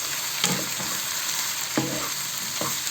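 Prawns and onion sizzle in a pan while being stirred, with a steady frying hiss broken by several sharp scraping strokes of a spatula, close and clear, without speech.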